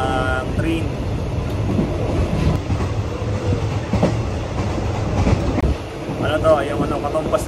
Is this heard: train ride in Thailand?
yes